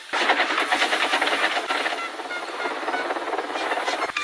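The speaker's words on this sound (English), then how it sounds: "This is an express train after all." An express train runs fast along the rails with a loud, steady rumble and a rhythmic clicking clatter throughout, heard close by with no voices.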